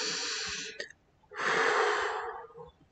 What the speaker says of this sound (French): Prenez une profonde respiration et répétez après moi.